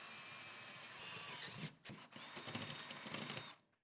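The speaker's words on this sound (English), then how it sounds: "Using a 9/16 drill bit, drill holes at the pilot holes through the metal studs." A power drill fitted with a 9/16 bit whines loudly as it bores through metal studs, with a steady grinding run, two brief pauses near the middle, and then the drill spins down at the end.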